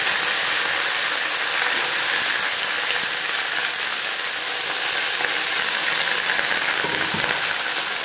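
Drumstick leaves drop into hot oil already frying with cumin seeds and dried chilli, giving a steady, loud sizzle and crackle that runs without a break for the whole stretch, with no voices.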